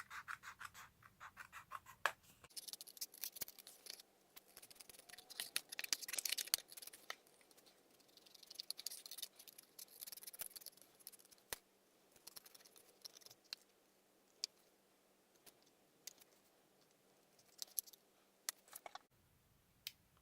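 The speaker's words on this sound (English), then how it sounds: "So I'm going to cut that just with my scissors." Scissors cut through paper with crisp, close snips and scratchy rustling, quiet and uneven over about twenty seconds, with no voices.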